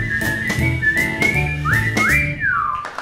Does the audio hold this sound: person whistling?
yes